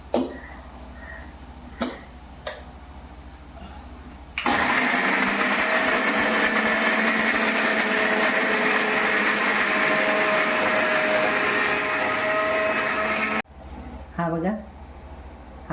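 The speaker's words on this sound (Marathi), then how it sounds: "हे आता मी मिक्सरला लावते बघा" A kitchen mixer grinder grinds coconut in a home kitchen, a loud, steady whirring roar that runs unbroken for about nine seconds, with someone talking and a few clicks and knocks before and after it.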